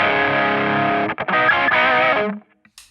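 Electric guitar played through a Hotone XTOMP pedal on its Monkey Drive distortion setting: a loud, saturated sustained chord with a brief choked break, ringing on before cutting off.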